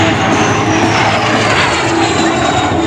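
T-33 Shooting Star jet aircraft at the California International Air Show 2021, a loud continuous engine roar with a descending whine as it passes nearby.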